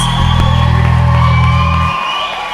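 A church congregation at a pastoral ordination and deacon consecration cheers, whoops and applauds loudly for the new ministers, a sustained crowd roar over a droning organ-like tone that drops away near the end.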